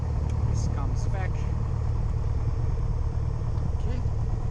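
A Piper Archer aircraft engine idling on the ground, a steady low droning rumble heard from inside the cockpit, with brief voices and radio-like chirps over it.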